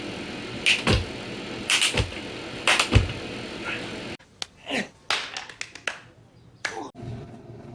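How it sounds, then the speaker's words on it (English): Sharp hand claps from double clap push-ups land in quick pairs about once a second, each pair crisp and close, then fewer scattered slaps and thuds follow as a voice talks over the later part. "It's double clap push-ups, just like clap push-ups, but a little bit more explosive"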